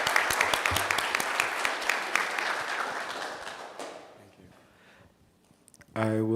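An audience at a university conference claps in a dense burst of applause that fades out over several seconds, followed by a brief sustained tone at the very end.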